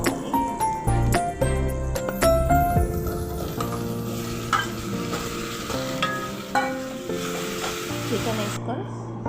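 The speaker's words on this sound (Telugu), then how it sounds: "చికెన్ వేసుకొని బాగా కలుపుకోవాలి." Chicken fries in a pan and is stirred, with metallic spatula clanks and scrapes at first, then an ongoing close sizzle with occasional stirring knocks.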